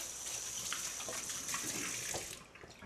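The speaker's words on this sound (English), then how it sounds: "Kind of rinse my hand a little bit." A hand is rinsed under a running kitchen tap, a steady close hiss and splash of water that goes on throughout and eases off slightly near the end.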